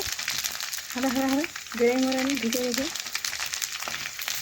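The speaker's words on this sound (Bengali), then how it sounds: "তেল গরম হয়ে গেছে তেলের মধ্যে ফুচকাগুলো আমি দিয়ে দিলাম আর দেখুন কিভাবে ফুলে ঢোল হয়ে যাচ্ছে" Fuchka puris deep-fry and puff up in hot oil with a constant crackling sizzle close by, while a brief voice sounds over the frying partway through.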